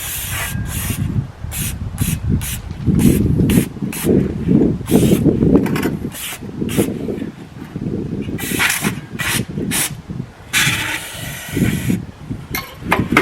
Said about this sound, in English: everything a good spray down with brake cleaner.